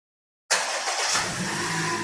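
A car engine cranks and catches abruptly after a moment of silence, then settles into a steady running idle, close and fairly loud with no voices.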